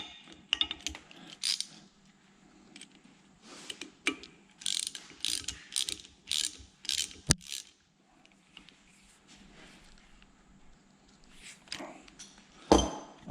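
A ratchet wrench tightening a nut during a power steering conversion on an Oliver tractor, with close, quick bursts of clicking pawl strokes separated by pauses and a few sharp metallic clanks.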